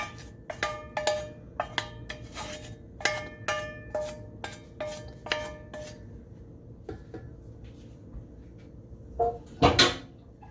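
Cooked onions scraped out of a pan into a dish for cheesy potatoes, a string of sharp metallic scrapes and taps in a steady rhythm, followed by a pause and a final clatter of utensils against cookware.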